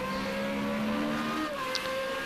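Formula Renault race car engine droning steadily through corners at the Spa circuit, a sustained tonal whine with a brief higher squeal near the end.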